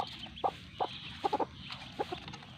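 Chinese duckling peeping nearby, quiet, high chirps in short separate bursts, including a quick run of three, over low background hiss.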